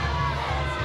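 Arena crowd at a wrestling event in the Delta Center, Delta, Iowa, reacting to a match result, a dense, steady roar of many voices throughout the brief moment, with mixed shouting and jeering.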